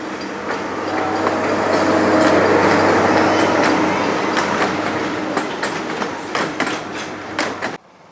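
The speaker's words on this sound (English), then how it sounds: "Oh, the train's coming by." A train at Animal Kingdom rumbles past close by, steady roar with rhythmic clacking of wheels over rail joints, cutting off abruptly at the end.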